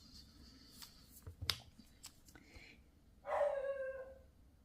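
A few faint clicks and knocks, then a dog lets out a drawn-out bark or whine, fairly close and clear against a quiet room.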